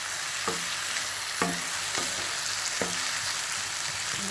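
Onion chilli chicken stirred in a frying pan with pepper added, a continuous loud sizzle broken by four spaced spatula scrapes against the pan.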